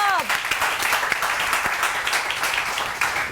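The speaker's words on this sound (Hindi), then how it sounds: "तो उन्हें आपकी भरपूर तालियों में बुलाते हैं" A studio audience applauds to welcome a guest, with dense, lively clapping close by that lasts the whole moment, and a voice briefly audible at the very start.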